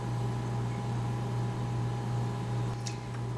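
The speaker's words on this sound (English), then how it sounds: "I'm going to put this in the microwave for about 20 seconds to melt the cheese." A microwave oven running to melt cheese, giving a steady close hum with a low drone and an even whir that stays constant throughout, no talk.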